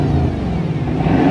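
A Bugatti Chiron engine revs briefly nearby, a loud deep roar with rising and falling pitch, heard alone.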